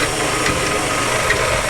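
An electric mixer whirs steadily as it beats shortening, a continuous loud motor drone with a rough, grinding texture and no pauses or talk over the short stretch.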